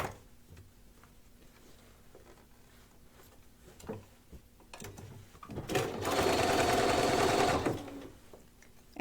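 A sewing machine stitches layers of padded laptop-case fabric, with a few quiet ticks and handling sounds before a loud steady whirring run of about two seconds that then stops.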